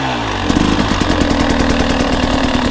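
A motorcycle engine idles and then ticks over at low revs with a steady pulsing putter during a slow pivot turn, close and moderately loud, with no talk.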